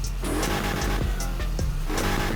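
A pickup truck's V8 engine in Need for Speed Heat roars continuously with a deep, throaty rumble, rising and falling in pitch, loud and close with no talk.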